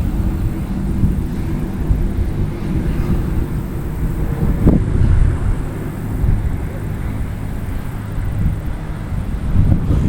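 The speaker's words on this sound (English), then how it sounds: "Very windy." Strong wind blows by a lake, a steady low roar buffeting the microphone throughout with a brief louder gust near the middle.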